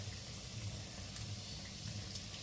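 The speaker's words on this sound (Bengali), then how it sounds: "সর্ষের তেলে এখানে তালের বড়াটা ভাজা হচ্ছে" Palm fruit fritters (taler bora) frying in hot mustard oil in a pan, a steady dense sizzle and bubbling hiss throughout, close and even.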